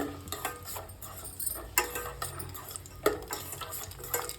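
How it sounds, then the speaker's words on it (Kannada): Raisins frying in a pan for organic porridge, soft sizzling with repeated scraping and tapping of a spoon stirring against the pan, close and moderately quiet. "ದ್ರಾಕ್ಷಿ ಎಲ್ಲ ದಪ್ಪ ಆಗ್ತಾಯಿದೆ, ಫ್ರೈ ಆಗ್ತಾಯಿದೆ"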